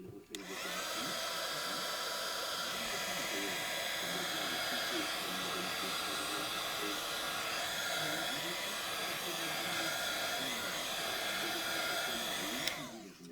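A hair dryer or heat tool blows over an acrylic plate during scrapbooking, giving a steady, loud whooshing airflow that runs for about twelve seconds before switching off abruptly.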